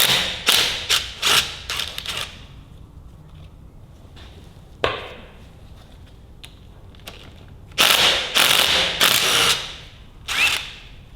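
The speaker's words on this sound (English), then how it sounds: "I'll pull these bolts out this one" A ratchet wrench loosening bolts on an old engine, loud close bursts of fast clicking ratchet strokes in groups, with pauses and a single knock between them, no talking.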